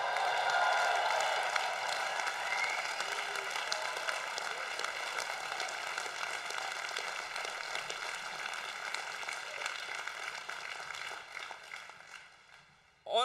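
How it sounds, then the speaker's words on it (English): A graduating class at a commencement ceremony applauds and cheers in a long, steady rain-like wash of clapping that slowly tapers, then cuts off abruptly at the end. "it's time for us to make some noise because this place is too cold. Cheer yourself, class of 2016."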